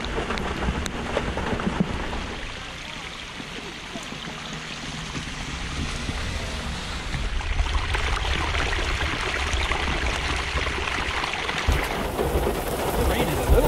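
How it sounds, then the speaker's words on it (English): Heavy rain pours down at a lake, a steady hiss of water on the surface throughout, building slightly louder in the second half, with faint voices and handling noises now and then beneath it. "Yeah, it's pouring down rain."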